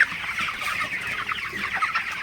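Broiler chickens on a poultry farm, a dense chorus of many birds clucking and chirring together, steady and close, with no talking.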